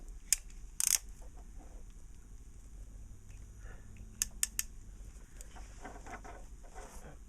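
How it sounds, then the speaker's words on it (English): A BNC connector is crimped onto a cable. Sharp, close metallic clicks and snaps of the crimping tool sound over a low background hum, with one cluster early and another several seconds later. "And then we'll crimp it on our second one."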